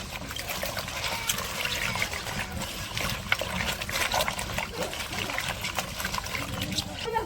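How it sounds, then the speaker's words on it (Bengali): Water splashing and trickling as cut taro and potatoes are washed in a village kitchen, a steady close sloshing that runs throughout, with faint background noise. "এগুলো এখন ধুয়ে নিতেছে।"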